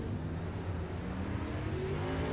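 A race car engine in the iRacing video game drones steadily with a rising, revving pitch, coming closer throughout, with no voices.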